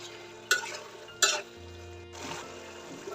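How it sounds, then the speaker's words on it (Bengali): Tengra fish hit a pan of frying spice paste: two sharp splashy clatters, then a low steady sizzle that swells slightly near the end, with no voices. "মশলাটা কিছুক্ষণ জাল করার পর ট্যাংরা মাছগুলো দিয়ে দিলাম"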